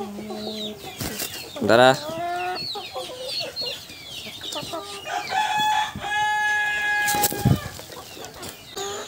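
Chickens cluck and a rooster crows close by on a farm while a bird's beak is trimmed round by hand, with wing flapping, handling noise and a man's brief spoken word.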